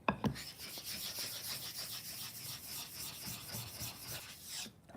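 A Japanese kanna plane blade is rubbed back and forth on a sharpening stone, giving a steady, close rasping scrape in even repeated strokes, with no voices.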